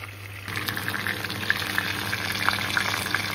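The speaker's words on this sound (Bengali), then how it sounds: "এটাকে আমি অল্প অল্প করে উল্টে পাল্টে ভেজে নেব" Chicken pieces frying in hot oil for morog mosallam make a dense, bright sizzle that swells suddenly after a soft start, with small crackles and pops scattered through, and no voices.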